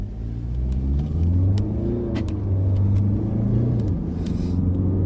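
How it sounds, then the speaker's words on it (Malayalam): A car on Continental Premium tyres starts off and accelerates, its engine rumbling loud and close with a rising rev through a steady low drone, and no talk over it. "നമ്മൾ വണ്ടി ഇവിടുന്ന് സ്റ്റാർട്ട് ചെയ്യുവാണ്"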